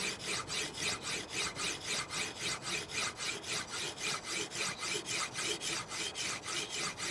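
Blade drawn over new diamond stones on a KMFS Vantaedge sharpener, giving a soft, even run of rhythmic rasping strokes, about three per second, close and quiet with no talk.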